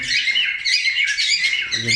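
Canary mothers chirp and twitter busily at close range, a dense stream of high, overlapping calls with no pauses.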